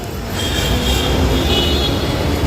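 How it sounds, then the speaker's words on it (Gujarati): Dense traffic and GSRTC buses rumble steadily at the Rajkot bus stand, a continuous close engine drone with no clear voices. "ખૂબ જ હેવી ટ્રાફિક છે આજે"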